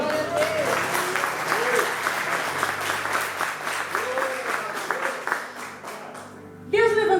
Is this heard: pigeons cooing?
no